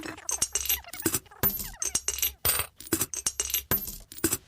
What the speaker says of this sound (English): The tinkle of coins dropping straight into your bank account